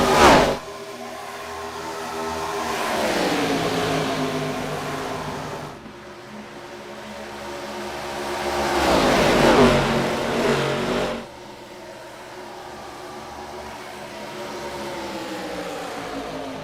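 Race cars in an ARCA race at Charlotte Motor Speedway in a racing video game sweep past one after another, engines revving loud and high, the roar rising and falling as each car passes.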